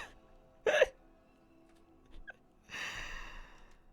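A cat sneezes once, close and sharp, a short burst followed a moment later by a softer breathy puff and a faint second snort.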